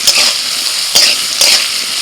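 Dried and green chillies, potato and turmeric hit hot oil in a loud, close sizzle, with a few sharp stirring scrapes of a utensil against the pan and no voices.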